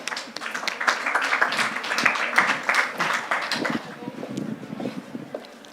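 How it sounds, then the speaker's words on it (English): Audience applause at a panel session on a discovery stage, a sustained crowd clapping of moderate loudness, with some murmuring voices that fade toward the end. "A very, very big applause, please."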